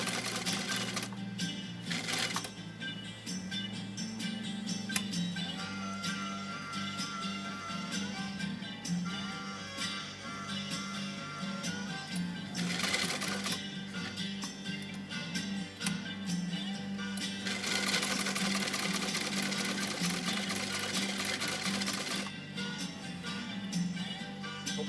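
A 1923 Singer 66-1 sewing machine runs in long steady stitching bursts with a low motor hum and rapid needle clatter, pausing briefly between runs.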